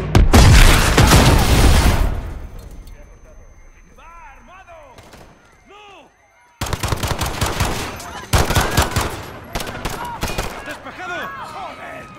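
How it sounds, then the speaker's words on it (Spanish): Gunfire and explosions in the Call of Duty Modern Warfare campaign in realistic mode at Piccadilly Circus, starting with a loud sustained burst of automatic fire and booms, then a quieter stretch with shouting voices, then renewed rapid shots and blasts mixed with yelling. "¡Se han producido disparos!"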